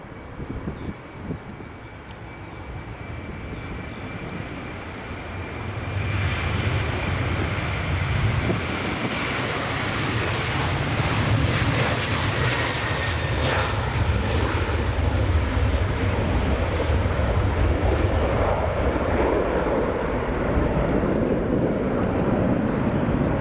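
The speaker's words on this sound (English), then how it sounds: "here goes the Ryanair 737-800. Rolling down runway 24." Ryanair Boeing 737-800 jet taking off down runway 24 at Edinburgh Airport, its engine roar building from a distant whine into a loud, sustained rumble that holds steady for many seconds, with some wind buffeting on the microphone.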